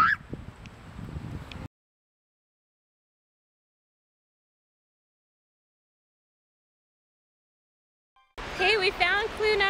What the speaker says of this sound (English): there's goose poop everywhere, Cam.